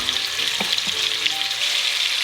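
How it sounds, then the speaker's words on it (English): Pieces of beef brown in a hot pan, giving a steady close sizzle with scattered pops and a couple of soft stirring knocks, no voices. "we're just gonna make sure the beef is brown on all sides"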